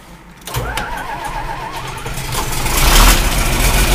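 A cold engine cranks briefly, catches and fires, then settles into a loud, rough idle that swells louder toward the end, heard close indoors without talking.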